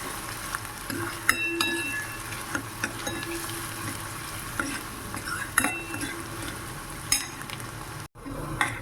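Onion sizzles and fries in a pan over a raised gas flame, a steady crackling hiss broken by scattered stirring clinks and scrapes of a spoon against the pan.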